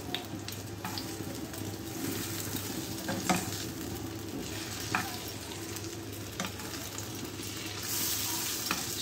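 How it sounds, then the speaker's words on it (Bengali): Flattened-rice chops, just flipped, fry quietly in a pan, a low steady sizzle with occasional clicks and scrapes and a brief rush of running water near the end, without speech. "এক পাশ ভাজা হয়ে গিয়েছে, আমি উল্টে নিচ্ছি চপগুলোকে।"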